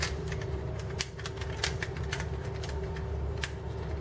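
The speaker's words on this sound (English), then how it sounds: "Now this section right here, we're gonna fold it." Plastic panels of a Transformers PP05P Patrol Specialist toy being folded, faint close clicks and small snaps scattered irregularly over a quiet background hum.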